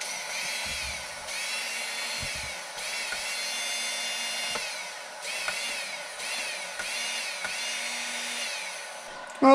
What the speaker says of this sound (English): this motor right here sounds like it rips pretty good